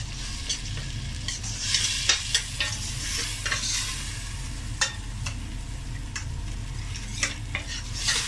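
Green chili paste masala frying in a pan for a kadhi pakora, a steady close sizzle with repeated scraping strokes of a spoon stirring through it, no talking.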